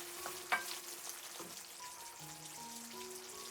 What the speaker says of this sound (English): After 15 minutes, remove the lid. Leave 2 more minutes to reduce the sauce.